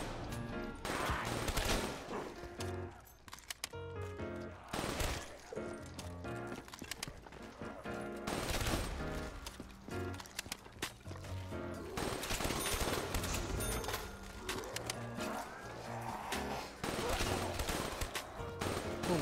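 MA87 gunfire in a Call of Duty Black Ops 3 Zombies match on Nacht Der Untoten, dense rapid bursts in a loud, continuous game mix with other effects.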